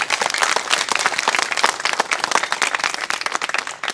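Protesters at a cold-weather hunger-strike sit-in applaud steadily, a dense, close crowd of clapping hands that swells and thins slightly over four seconds with no voices on top.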